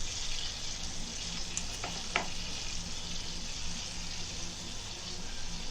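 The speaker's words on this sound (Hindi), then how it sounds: "प्याज को अच्छे भूनेंगे।" Ground onion paste with salt fries in a hot pan for a chicken malai tikka masala, giving a steady, even sizzle and hiss that runs the whole time with a few faint stirring scrapes.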